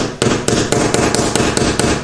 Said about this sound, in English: tap in there with a screwdriver